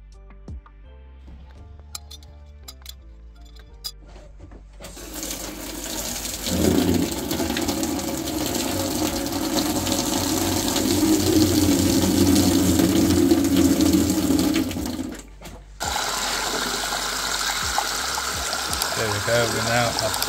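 A hot water tap on an unvented cylinder system runs at restored pressure of about 3 bar, a steady, loud rushing flow that starts partway in, holds for roughly nine seconds, stops briefly, then resumes.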